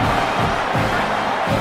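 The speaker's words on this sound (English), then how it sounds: "Listen to this crowd just shaking the girders of this place trying to help their defense" A stadium crowd roars continuously at a college football game, a loud dense wash of cheering with rhythmic surges, as if stomping or chanting.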